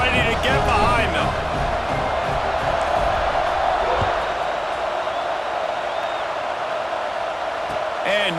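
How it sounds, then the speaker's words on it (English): Simulated stadium crowd in an EA Sports College Football 26 game roars steadily before a kickoff, a dense continuous wall of cheering with brief louder swells, heard under a play-by-play commentator. "this crowd now ready to get behind them"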